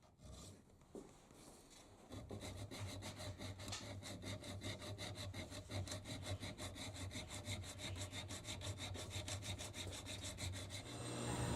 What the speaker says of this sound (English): You have a lot more control with a file than you do with the Dremel tool.